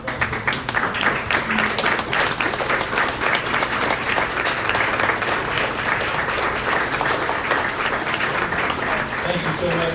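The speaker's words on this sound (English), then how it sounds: "let's give y'all a round of applause for the service that y'all" Audience at a town hall gathering at Kelly's Kitchen gives a sustained round of applause, dense and loud clapping continuing steadily throughout, with voices faintly mixed in beneath it.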